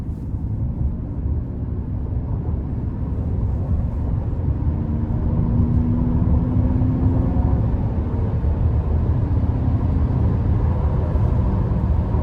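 A 2021 Buick Enclave Avenir in sport mode accelerates to merge onto the interstate, heard from inside the cabin as a loud, steady low engine and road drone that swells slightly with moderate throttle.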